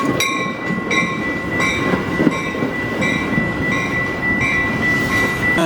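A commuter train running into a station, loud and near, with a steady rumble of wheels on rails, regular clacking over joints and a faint tonal whine, no talking.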